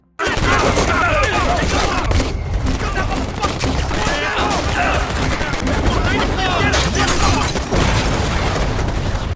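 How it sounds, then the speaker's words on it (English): Dense, sustained gunfire from a film gunfight between rival gangs, with booming impacts and rapid volleys, loud and chaotic throughout, with shouting voices mixed into the din. "Jake discreetly kills a guard, triggering a gunfight between Castillo's and the Russians' gangs."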